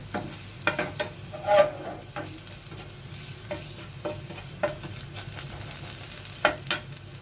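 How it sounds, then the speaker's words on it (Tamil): Garlic sizzles gently in hot oil in a pan, with intermittent scraping and stirring clatters from a utensil, close and moderately loud, no talking. "அதையும் எண்ணெயிலே போட்டு நல்லா ஃப்ரை பண்ணிக்கோங்க."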